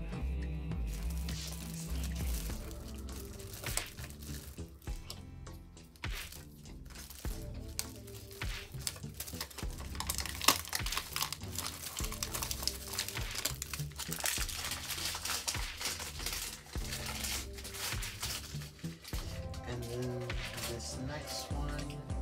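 Plastic packaging of a Skulltimate Secrets Draculaura doll is opened with continuous crinkling and crackling up close, in uneven bursts that run throughout.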